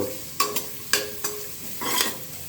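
Onions sizzle in ghee on a medium flame for ghee rice, with a soft continuous frying hiss broken by several sharp scrapes and clinks of a spoon stirring the pan, close and fairly quiet.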